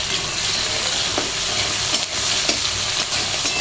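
Chopped onion and slit chili hit hot oil for chilli chicken, a loud, close, continuous crackling sizzle with occasional scraping strokes of stirring.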